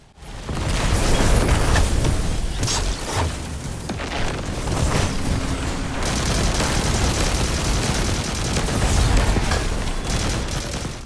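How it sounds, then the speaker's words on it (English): In a Destiny 2 Grandmaster Nightfall, grenades go off in a loud, continuous barrage. Booms and rapid weapon fire overlap densely for the whole stretch. "you'll see me throwing lots and lots of grenades down"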